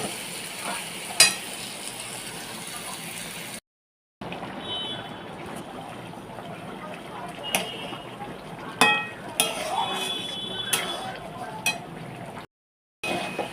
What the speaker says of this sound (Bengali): এবার কষাচ্ছি, কষা দিয়ে তারপরে আবার জল দিয়ে দেবো।